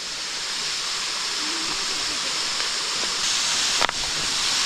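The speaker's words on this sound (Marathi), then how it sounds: "हा केळीचा कड्या पाणी व्हायला लागलं आहे" A monsoon stream in a Konkan forest during the early rainy season rushes with a constant broadband hiss. A faint tonal call and a brief sharp click rise over the water near the end.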